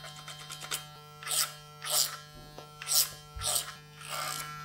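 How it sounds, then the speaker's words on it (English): Electric hair clippers buzz in short bursts while cutting hair clipper-over-comb at a barbershop, the strokes coming roughly once a second over a constant low hum. "Now this technique, clipper over comb,"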